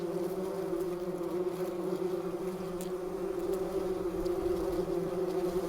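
Bumblebees buzz inside their nest among waxen brood cells, a steady, dense, droning hum that holds evenly throughout without pause or voices.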